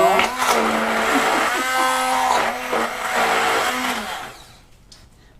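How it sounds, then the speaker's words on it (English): A stick blender mixing black buttercream, whirring loud and close with a steady motor drone that shifts pitch as it works through the thick icing, then stops, leaving near silence. "what you'll find with the stick blender, it's actually heating up the buttercream"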